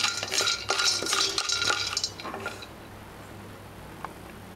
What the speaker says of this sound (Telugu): వీటిని ఒక 2 నుండి 3 నిమిషాల పాటు ఇలా ఫ్రై చేసుకోవాలి